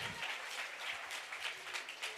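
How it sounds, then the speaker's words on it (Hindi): A school audience at a student social drama claps for the netaji, a faint, short burst of scattered applause with distinct hand claps standing out. "जोरदार तालियां हमारे नेताजी के लिए।"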